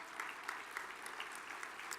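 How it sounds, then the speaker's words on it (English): An audience at a National Tornado Summit general session gives a round of applause, a short, fairly faint patter of many hands clapping in a large hall with no voices over it. "Could I have a round of applause?"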